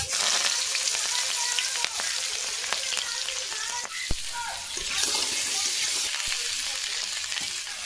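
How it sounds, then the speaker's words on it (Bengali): Egg frying in hot mustard oil, a steady close sizzle and crackle that runs without a break, with a few clinks from the pan. "এবার ডিমটা ভেজে নেব।"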